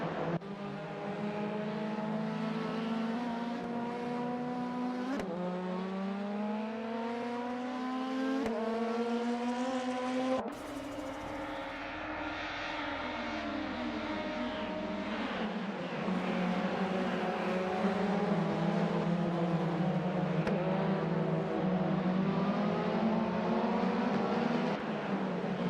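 Race cars in a racing video game scream past with sustained high-revving engine whines, the pitch rising and dropping through gear shifts as several cars drone on together, loud and continuous.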